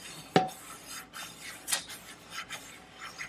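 A vegan sponge scrubs a surface in short, rough rubbing strokes, a loud scrape first, then irregular raspy swishes with brief pauses, close by and without talk.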